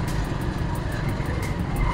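Steady, dense roar of road traffic in hot, congested streets with jeepneys, cars and engines rumbling continuously up close, with no voices over the noise.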